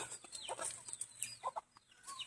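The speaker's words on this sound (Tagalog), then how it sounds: "Mga gansa, mga manok." Chickens and geese cluck and squawk in short, scattered bursts close by, with fowl calls overlapping against a quiet background.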